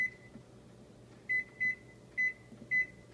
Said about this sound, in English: I'm just going to set my timer.